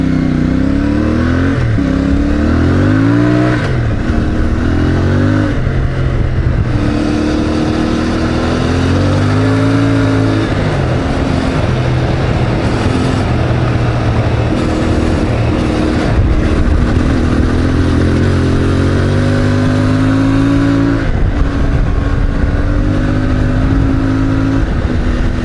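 CFMOTO 450 MT motorcycle engine revving while riding, loud and close, rising and falling in pitch through gear changes and throttle blips over steady wind rush, with no talk.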